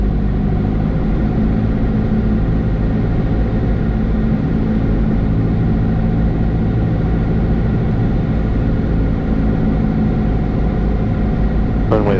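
A light aircraft engine hums steadily on landing approach, a constant loud drone with a low throb held at power throughout, heard from inside the cabin.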